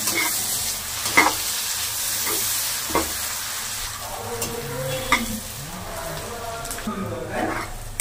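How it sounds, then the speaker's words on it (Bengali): Grated coconut fries lightly in a pan for a prawn and banana-flower dish, with a steady soft sizzle under repeated scraping strokes of a spatula that stirs it, close and moderately loud, with no voices. "নারকেলটা হালকা লাল লাল করে ভেজে নিই।"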